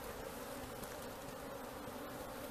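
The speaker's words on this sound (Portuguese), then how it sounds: "as abelhas estão bastante mansas, estão entrando aí dentro da caixa" A swarm of Apis honey bees buzzing as they crawl into a hive box during a rescue capture, a dense continuous droning hum, close and steady throughout with no talking.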